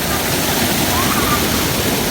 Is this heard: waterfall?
yes